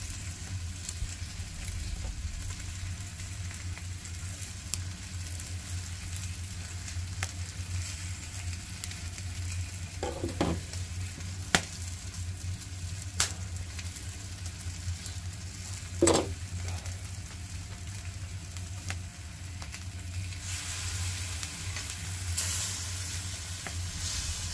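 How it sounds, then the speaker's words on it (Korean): A whole green onion grilling on a thick hot natural stone over a wood fire, a steady close sizzle and hiss throughout with a few sharp pops and crackles. "통째로 굽을 거예요, 대파."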